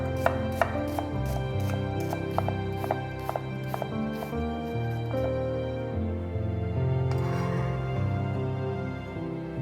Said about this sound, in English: One red onion, finely diced.